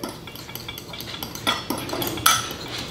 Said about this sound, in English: I'm kind of just whisking it